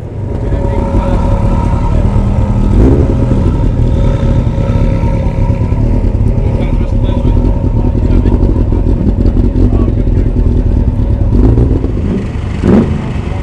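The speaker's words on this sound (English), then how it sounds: "Sorry about the generator again." A generator drones loudly and continuously at an outdoor car gathering at Mercedes-Benz World, a heavy low engine rumble with occasional clatter and knocks layered on top throughout.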